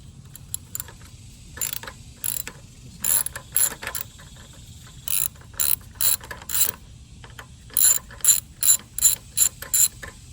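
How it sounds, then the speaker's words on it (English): A 5/16 socket on a hand ratchet working bolts loose on an old pressure washer, giving close, crisp bursts of rapid clicking that start and stop repeatedly in short runs, with no talking. "got a 5/16 on a ratchet"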